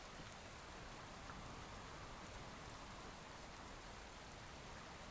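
Steady rain pours outside a makeshift roof shelter in the woods, a continuous broadband patter with no breaks, while someone speaks briefly and quietly under it.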